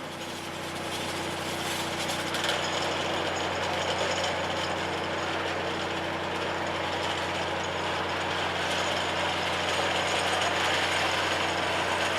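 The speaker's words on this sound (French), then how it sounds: "Avec cette machine-là, elle a une particularité, c'est qu'on peut la placer n'importe comment dans la galerie, on réussira toujours à forer nos trous." A rock drilling machine bores holes in a mine gallery, giving a continuous mechanical drone with a steady low hum and rattling grind that holds even and unbroken throughout.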